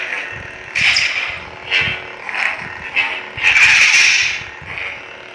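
Graflex-style lightsaber soundboard running a sound font, giving a series of bright electronic hums and swells that rise and fade in several bursts, fairly loud and close, with no talking.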